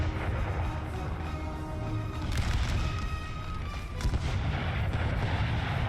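Rifle fire from a Civil War battle in a hardcore North & South game mod, with shots crackling at long range over a dense, continuous battlefield din, several louder reports standing out.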